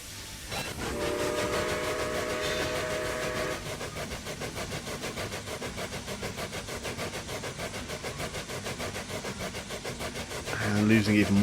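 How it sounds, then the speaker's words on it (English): A steam-era train in Railway Empire rolls through the Andes with a whistle blast at the start, then steady rhythmic wheel clatter and hiss, swelling louder near the end under a speaking voice. "I need one of these trains to pull into a station"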